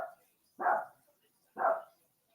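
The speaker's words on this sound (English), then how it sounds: "Hey, the dogs are celebrating." Two sharp, close dog barks about a second apart, each a short loud burst indoors at home during a Nottingham Forest versus Newcastle football match, with quiet between them.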